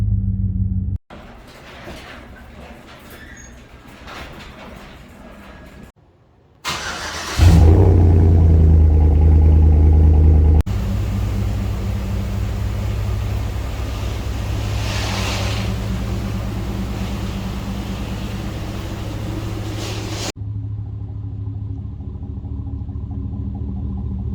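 A 2007–2013 GM Sierra pickup truck driving on a road, heard from inside as a loud, steady engine rumble and road drone with a brief surge, a few cuts between passages.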